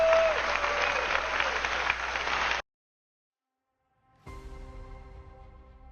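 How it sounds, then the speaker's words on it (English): Loud applause from a large crowd for a few seconds, then sudden silence, followed by a faint tonal hum. "I wanted to leave a little bit of applause here."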